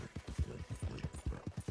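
Hooves of a big strawberry roan Ardennes war horse ridden in Red Dead thud in a steady, quick clip-clop rhythm, close and fairly soft, with no other sounds.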